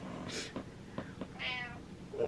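A cat gives several short meows in a row, close and clear, with small quiet pauses between the calls.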